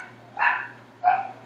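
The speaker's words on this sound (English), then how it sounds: "I apologize for the dogs barking if you can hear them" Two separate dog barks, moderately loud, spaced about half a second apart over a low steady hum.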